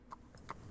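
Horse hooves clip-clopping as a horse and buggy passes, a few sharp, evenly spaced knocks standing out faintly against quiet background noise.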